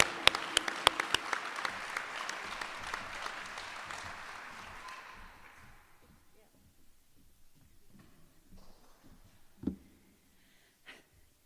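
Audience applause for an apprenticeship graduate at a graduation ceremony, a dense burst of clapping for about five seconds that fades out, leaving a quiet room with a few faint shuffles and a brief thump.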